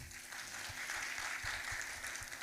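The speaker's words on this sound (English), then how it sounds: "A round of applause for him." A brief burst of applause from a small crowd, steady clapping at low volume, heard without speech.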